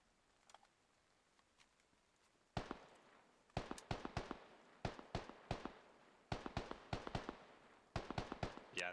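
Single AK rifle shots ring out in Squad, a sharp bass-heavy report at a steady spaced rhythm after a quiet start, each crack followed by a short decaying echo, loud and close with no talking.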